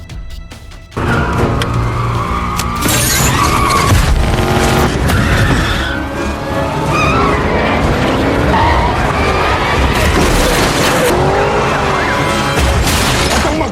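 Cars skid and crash as a swung safe smashes into them during a movie car chase with a corrupt police pursuit, a loud, continuous roar of tire screech, engines and heavy impacts.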